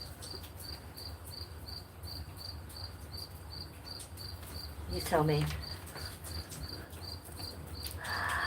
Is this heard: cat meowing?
no